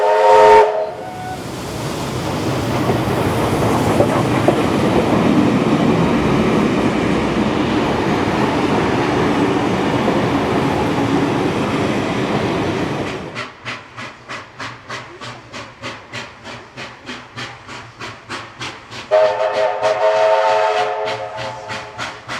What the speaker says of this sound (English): Then we see the locomotive climbing through the Thirlmere banks.